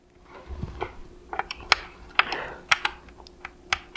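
Screws being loosened on a Nintendo Switch portable dock, a series of sharp close metallic clicks and ratcheting ticks from a small screwdriver at an irregular pace, with no talk.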